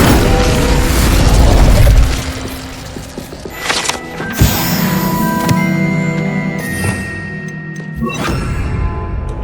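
A burst of fiery magic, the Incendio spell cast in Hogwarts Legacy, sounds as a loud whooshing blast that fades into scattered clinks and rumbling game effects.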